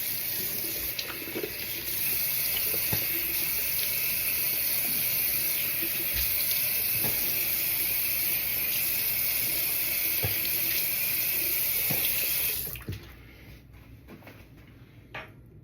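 A bathroom tap runs steadily while someone rinses after a shave, a continuous close rush of water broken by a few soft knocks, and then the flow shuts off near the end.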